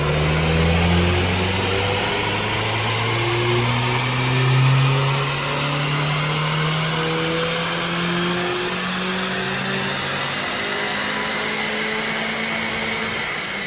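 A Smart ForFour Brabus engine runs hard on a dyno, a loud continuous drone whose pitch climbs steadily over a long pull, with broad whooshing noise behind it and no talking.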